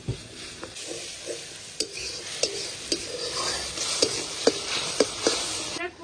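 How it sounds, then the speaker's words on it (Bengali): Spice paste of turmeric, coriander, red chili and cumin powders with a splash of water frying in a pan for jackfruit curry, a steady sizzle with repeated scraping stirs and occasional spoon knocks on the pan. "এবার সব কিছু ভালো করে মশলাটা কষিয়ে নেবো"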